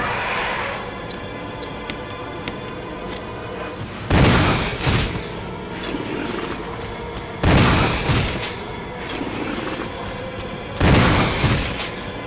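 Gunfire in the video game Resident Evil HD comes as three heavy booming shots spaced several seconds apart, loud against a low ambient hum.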